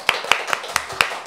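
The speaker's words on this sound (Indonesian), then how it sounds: "Tepuk tangan dulu dong." Six sharp hand claps at a steady, fairly quick rhythm, close and distinct, heard during a casual Indonesian talk show about starting a business.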